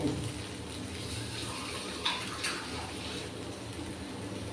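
Water poured from a bowl into a cooking pot of potatoes and poppy seed, a soft steady wash of liquid, quiet and close, with faint kitchen background.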